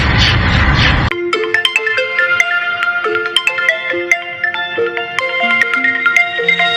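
A bright electronic phone ringtone plays a rapid melodic tune, loud and close, starting right after a brief burst of noise.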